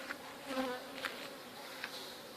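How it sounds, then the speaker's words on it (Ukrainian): Honey bees at an apiary buzz softly in the background, with a few individual bees passing close in brief louder swells against a quiet outdoor hum. "Прилетіли. Ось такі бджілки."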